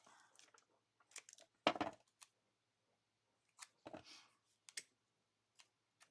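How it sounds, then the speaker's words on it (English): Scissors trimming a sheet of patterned vellum paper, heard as a few separate crisp snips and paper rustles with short quiet gaps between them, close by and fairly faint, with no talking. "this one I think I'm going to need to trim up"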